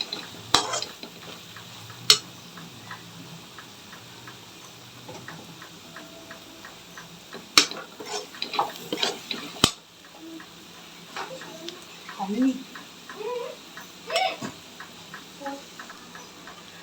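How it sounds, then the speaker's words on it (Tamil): Chili powder sautéing in a pan for tomato kurma, with soft stirring scrapes and clicks of a spoon against the pan and a few louder knocks, under intermittent talk. "இந்த மிளகாத்தூள் கொஞ்ச நேரம் வதக்கி விடுங்க"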